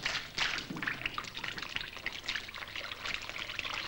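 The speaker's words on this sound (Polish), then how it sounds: "Bliżej knota leje się wosk ze starych świec ciemny." Melted wax from old candles is poured near a wick, giving a close, soft trickling pour with small drips and splashes, quiet and without talk.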